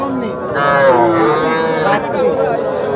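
A small cow gives a long, loud moo close by at the Ambari cattle market, with a second lowing call following, over faint crowd chatter.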